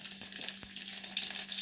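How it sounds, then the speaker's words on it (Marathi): Onion, mustard seeds and curry leaves crackle and sizzle in hot oil as tempering for a spicy dal, a steady close fizzing with small pops and no talking. "कांदा फोडणीला दिला आहे, राई फोडणीला दिली आहे, कढीपत्ता थोडासा."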